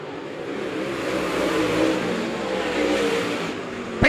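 Late model race cars roaring around Monett Motor Speedway in a steady, loud engine drone, building slightly as the pack passes, with no talking.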